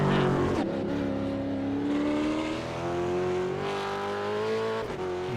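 V8 Supercars at Imola during qualifying: a close, loud V8 engine drone holds a steady pitch that slowly climbs, with a brief dip as another car passes near the end.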